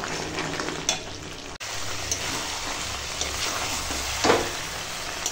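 Chicken gizzard and liver frying in oil in a pan, a steady dense sizzle with crackling spatters and a few stirring scrapes, close and continuous.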